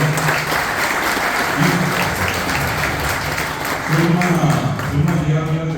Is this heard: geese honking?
no